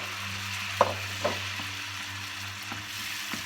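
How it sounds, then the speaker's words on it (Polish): Steady sizzling of shrimp and tomatoes frying in a pan, with a couple of soft clicks of stirring, close and continuous. "Smażymy."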